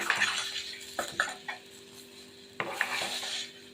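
A lid set onto a pot of thotakura (amaranth leaf) dal while it simmers, heard as a few sharp metallic clinks and clatters of metal on metal over a quiet cooking hiss, with no talking.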